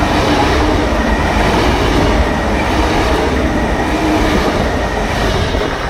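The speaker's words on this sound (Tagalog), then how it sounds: "Nandiyan na yung aming train." A high-speed train arrives at a station in Sapanca, Türkiye, a loud continuous rolling roar with steady rumble and wheel noise filling the whole few seconds, with no break and no talk.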